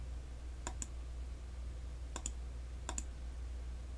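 Three quiet, separate pairs of computer mouse clicks sound while a curve is drawn in Blender. They come over a low steady hum, with no talk.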